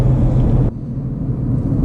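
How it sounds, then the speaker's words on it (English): Steady low road rumble of tyres from a 2016 Mercedes A200 cruising on a motorway, heard from inside the car. The hiss drops slightly partway through and the drone continues evenly with no talk. "Tyre noise is totally fine."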